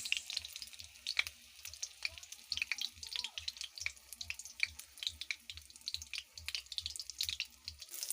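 Eggplant frying in a pan gives a quiet, steady sizzle with frequent small crackles and pops and a faint low rumble underneath, with no talking.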